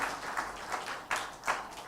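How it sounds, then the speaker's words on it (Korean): A Sunday church congregation applauds a string quartet with faint, sparse claps, a few distinct hand claps spaced irregularly over about two seconds in a quiet room. "박수 한번 보내주세요."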